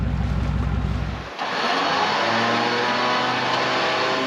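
A car engine drives up toward a boat trailer in remote Australia, a steady low rumble that cuts off briefly after a second, then resumes as a brighter, louder engine drone close to the microphone, with no talking.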